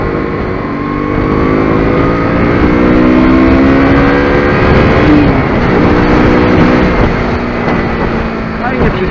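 A KTM RC 125 motorcycle engine revs and accelerates, a loud, rising tonal whine that climbs through gears with wind noise, continuous and close throughout.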